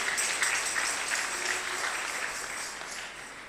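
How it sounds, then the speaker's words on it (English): A church congregation claps during a Sunday service, a dense continuous patter of many hands heard from across the room, fairly soft and even, gradually tapering off. "Clap for Jesus."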